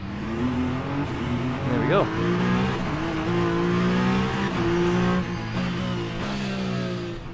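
Peugeot hypercar engine driven on track in Le Mans Ultimate, a steady droning combustion note with shifting gear pitches and one rising rev sweep, loud and continuous while someone speaks briefly.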